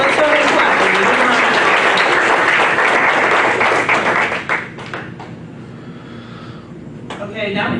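Graduation ceremony audience for July Nights class winners bursts into loud, dense applause that fills the room for several seconds, then thins to scattered claps as a voice begins talking near the end.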